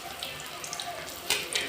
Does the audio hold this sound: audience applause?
no